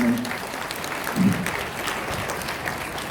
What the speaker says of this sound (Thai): ขอเสียงปรบมือท่านสักนิดหนึ่งครับ